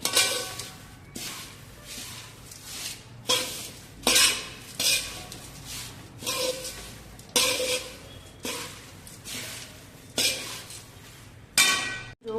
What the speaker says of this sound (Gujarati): હવે થોડા નાયલોન પૌવા સકડાવા લાગ્યા છે